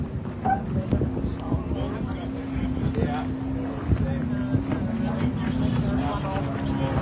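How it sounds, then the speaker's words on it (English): A racing powerboat in the Top O Michigan Marathon start off DeVoe Beach motors past with a steady droning engine hum, mixed with wind buffeting the microphone. "One more boat coming through."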